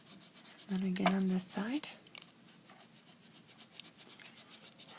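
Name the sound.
sanding and smoothing a miniature baking pan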